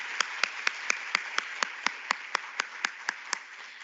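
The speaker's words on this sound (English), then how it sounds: "Let's give him one more round of applause." An audience at a career day event gives a faint, steady round of applause, with evenly spaced claps over a constant background wash.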